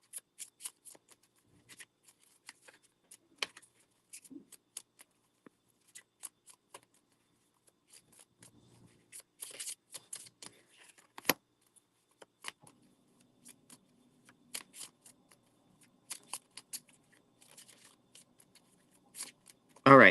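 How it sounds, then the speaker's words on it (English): Tarot cards shuffled and pulled, quiet scattered card flicks, slides and taps throughout, close and soft in a hushed room, ending in a louder burst. "So I'm almost done pulling your cards."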